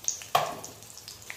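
Garlic cloves and chana dal dropped into a little hot oil in a pan give a sudden crackling sizzle that fades into a soft, steady fry, close and alone.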